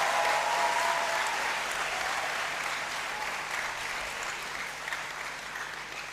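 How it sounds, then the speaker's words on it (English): Graduates and guests applauding at a university congregation ceremony in a great hall: sustained, even crowd clapping, fairly full and steady throughout, tapering only a little toward the end. "Give yourself a big round of applause for your achievements"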